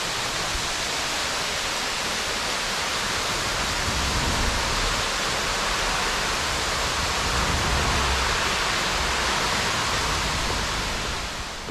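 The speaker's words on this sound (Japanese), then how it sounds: "今ね、道の駅に向かって走ってたら滝がね、ありました。" The Seto waterfall rushes in a dense, steady roar of falling water beside a mountain road, loud and unbroken throughout with no voices.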